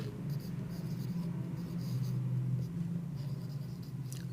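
Soft scratching of a marker or chalk writing on a board in a classroom, faint and steady over a low background hum, with no talking.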